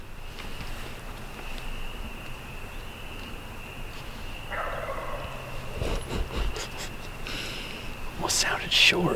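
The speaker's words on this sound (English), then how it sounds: "Sounded like it might have been a Jake gobble." Out in Kentucky hardwoods, a young wild turkey, a jake, gives short distant gobbles, faint bursts over quiet woodland ambience, while hunters murmur softly nearby.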